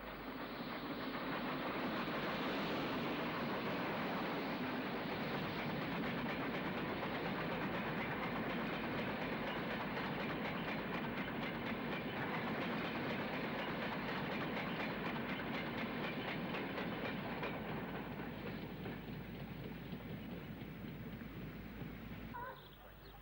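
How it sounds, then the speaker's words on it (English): LMS 48194, a Burton-shed steam locomotive, works a Class 8 unfitted freight train in 1962, a continuous rumble with steady clickety-clack of wagon wheels passing for a long stretch before easing off at the end. "it is appropriate to see LMS 48194 of Burton Shed working through in 1962 on a Class 8 unfitted freight"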